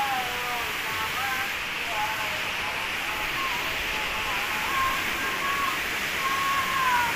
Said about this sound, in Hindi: ये देख इसमें पानी काफी तेज बह रहा है